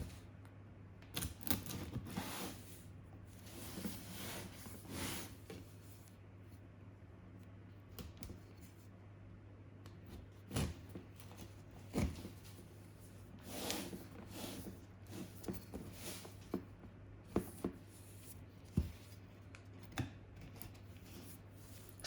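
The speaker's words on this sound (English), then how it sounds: "So let's unbox this router." Unboxing a TP-Link AX11000 Wi-Fi 6 router: soft, scattered clicks, taps and cardboard rustles from handling the box, with sharper snaps at irregular moments over a low steady hum.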